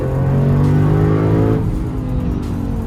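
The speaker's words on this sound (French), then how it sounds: "vous pouvez entendre, hein, on entend le V8" A Lexus RC F V8 engine revs loudly up close with a rich, deep tone, then the pitch drops as the throttle eases off.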